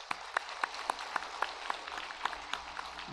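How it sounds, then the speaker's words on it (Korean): A church congregation at a Sunday service claps together in a steady, even rhythm to welcome guests, heard at a moderate distance with light room echo. "우리 교우들께서 우리 기쁨의 마음으로 큰 박수로 환영하겠습니다."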